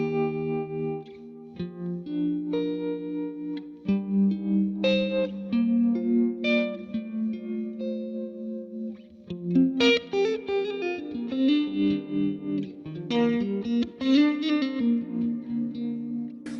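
A clean electric guitar runs through a Strymon Flint tremolo pedal, playing sustained chords and melodic lines. The notes pulse with a wavering tremolo and a wash of reverb, and no one talks over it.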